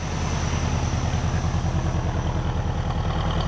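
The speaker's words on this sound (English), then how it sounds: "I think it's idling a little bit high" An International Scout truck engine with a new carburetor idles fast and steady, its even chugging pulses close and loud without a break.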